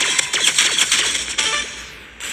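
Energy pistol firing in the Roblox game Rivals: a rapid, loud stream of crisp mechanical clicks and zaps for about a second and a half, then tapering off into a softer hum.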